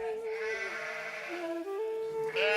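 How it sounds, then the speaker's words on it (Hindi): Sheep bleating in a forest pasture, a single drawn-out, wavering bleat that rises again at the end, close and clear with no talk over it. "कनकैया अपने भेड़ों को लेकर जंगल में चला जाता है।"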